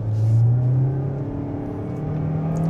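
A 2025 Kia Soul EX in normal mode accelerates from a start, its engine droning and rising steadily as heard from inside the cabin, loud and close with no talking.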